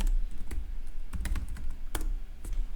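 Keystrokes on a computer keyboard while searching online groups, a quick uneven run of clicks with a few louder taps, close and clear over a low background hum, no voices.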